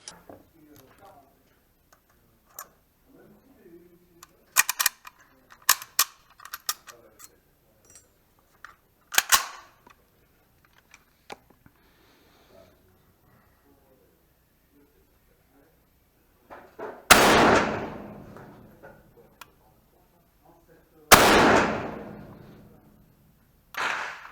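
An SKS 45 rifle with its action worked to check the chamber, sharp metallic clicks and clacks spread across the span, then two loud bolt cycling strokes late on, with someone talking at times.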